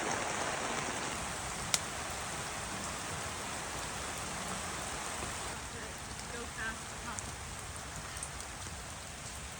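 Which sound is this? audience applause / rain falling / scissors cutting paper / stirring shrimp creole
rain falling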